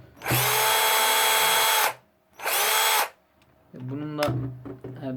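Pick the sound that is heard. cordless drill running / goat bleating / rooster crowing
cordless drill running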